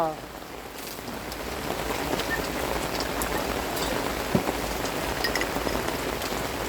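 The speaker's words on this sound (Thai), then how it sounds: "ฝนตกข้ามพระเขาอีกแล้ว" Steady rain pours down, a dense continuous patter of drops on surfaces, filling the whole stretch evenly.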